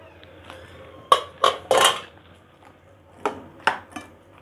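A spoon ladles cooked rice out of a pot, giving a few sharp clinks and scrapes against the metal in two quick bursts separated by a quiet pause, close and fairly soft.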